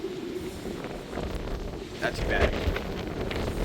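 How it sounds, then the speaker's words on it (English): Strong wind roars across the top deck of the Sapphire Princess cruise ship, buffeting the microphone loudly and steadily while a person speaks briefly beneath it. "it is very windy up here."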